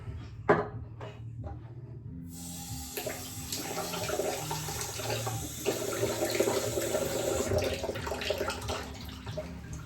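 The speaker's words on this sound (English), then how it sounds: "I'm gonna add a little bit of water." Water runs from a tap into a shaving bowl, a steady splashing trickle with faint clinks and handling noises around it.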